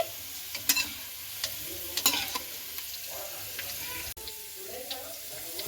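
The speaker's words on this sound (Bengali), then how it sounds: "এবার আমি কিন্তু এটাকে তেল ঝারিয়ে উঠিয়ে নিচ্ছি" Carrots frying in oil for fried rice, with a steady soft sizzle broken by scattered scrapes and clinks as the pieces are stirred and lifted out to drain.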